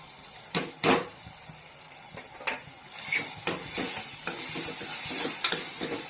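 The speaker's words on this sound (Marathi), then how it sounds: "काय छान परतून घ्यायचं आहे।" Onion and tomato sautéed with pav bhaji masala, turmeric and chilli powder in a pan for akkha masoor bhaji: a continuous sizzle with rhythmic spatula scrapes and a few sharper clicks, close and fairly loud.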